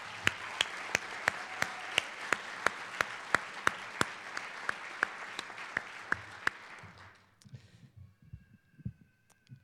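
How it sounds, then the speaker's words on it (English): A law school commencement audience applauds for families and friends in a broad, even wash of clapping, with one sharp clap repeating in a steady beat above it, before the applause fades into quiet room noise and shuffling. "I would like all of my classmates to join me in a round of applause for our families, friends, and loved ones"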